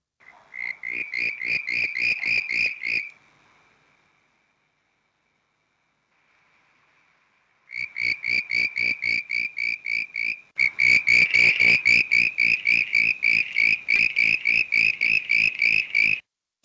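A frog from the Greater Adelaide area, a species that breeds through winter, calls in rapid pulsed croaks. Three bouts sound close and clear, broken by a few seconds of silence, and the last bout is the loudest and longest.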